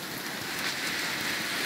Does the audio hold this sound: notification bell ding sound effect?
no